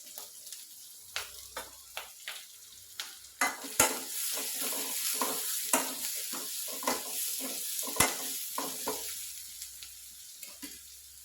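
Thinly sliced onion sautés with a pinch of salt in a pan, a steady sizzle broken by repeated scraping stirs and clinks of a spatula, close and alone without talk.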